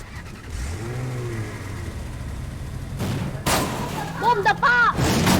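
A car engine in a video game revs up and climbs in pitch, then revs again in quick bursts alongside game gunfire, with players talking over it.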